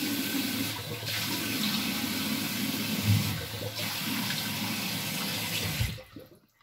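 A water tap runs steadily to wet the bristles of a shaving brush, a continuous close splashing stream with slight changes as the brush moves, stopping abruptly near the end.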